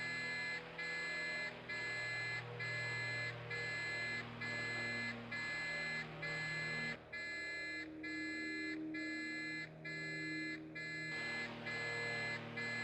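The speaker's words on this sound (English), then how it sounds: "Don't mind the beeping." Repeated electronic beeping in a steady on-off rhythm, loud and close, runs through the whole stretch over a low hum, briefly pausing midway before resuming; no one talks.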